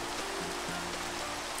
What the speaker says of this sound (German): Ach, jetzt regnet es auch noch.